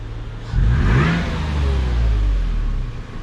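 A supercharged Toyota FJ Cruiser engine revs up hard from idle, its loud, close rumble rising and holding steady with a faint whine above it.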